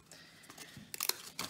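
Stuck 1994 Stadium Club baseball cards are peeled apart in a few short, crisp tearing crackles, the sharpest bursts coming in quick succession near the end, close and fairly quiet.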